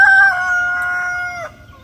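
Chickens in a coop housing about 40 laying hens, with a rooster crowing a loud, drawn-out cock-a-doodle-doo close by, the call fading after about a second and a half.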